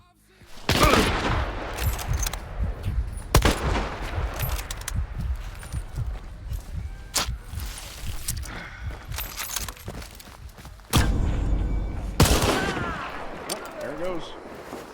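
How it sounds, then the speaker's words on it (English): Rapid bursts of video game gunfire crack through a busy mix of in-game effects, loud and close, with sharp shots clustered early and again near the end, while people talk over the action. "He's shooting at him."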